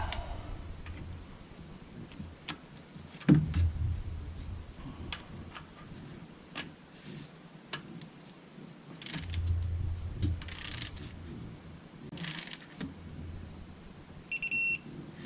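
A wrench torques cylinder head bolts on a 2014 Dodge Charger Pursuit, heard as scattered mechanical clicks and ratcheting with quiet gaps, plus a short tonal beep near the end, with no talking.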